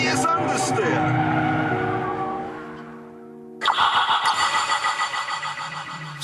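A Honda Civic Type R understeers through a corner, its tyres squealing loudly over the engine, then a sharp rhythmic squeal and scrub takes over as the car pushes wide.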